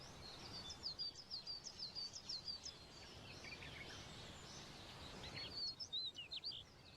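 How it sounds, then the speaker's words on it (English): Small birds chirp and tweet in quick bursts throughout, faint and steady like a distant backdrop, with a busier flurry near the end and no voices over them. "Why do we have birds as a background?"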